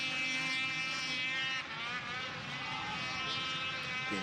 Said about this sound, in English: Stevens with the high revs there as they finally get the green flag and they zip away from the start gate